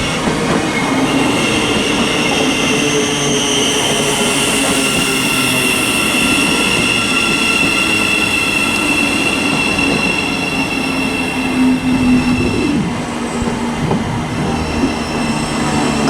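A Thameslink Class 700 electric train arrives at Luton Airport Parkway station, a loud, sustained rumble of wheels on rail with a rising squeal as it slows, heard close and continuous without talk.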